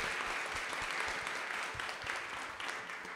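A studio audience at a Polish talk show claps warmly and continuously, a full even wash of hands that holds steady throughout without pause, no voices rising above it.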